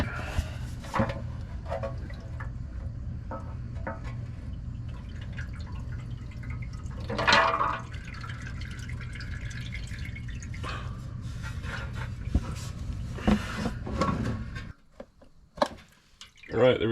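Transmission fluid from a 7.3 Powerstroke's 4R100 pan trickles steadily into a catch basin, a soft continuous dripping and splashing close by beneath a low garage hum, with a few sharp clanks of tools near the end.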